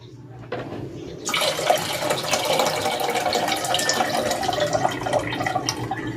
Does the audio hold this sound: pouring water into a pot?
yes